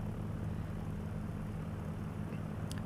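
Steady droning aircraft engine of a general aviation plane in the X-Plane 11 flight simulator, a constant loud propeller hum with strong low harmonics throughout, with a brief small click near the end and no talking.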